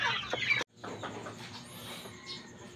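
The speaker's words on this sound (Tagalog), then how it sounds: "So ngayon ay may tatlo tayong manok dito." Backyard chickens clucking close by, a few bursty calls up front, then a short break and softer scattered clucks over faint background noise.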